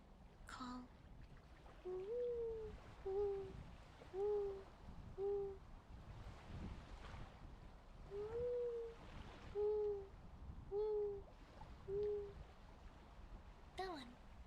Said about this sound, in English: I like the mourning dove call.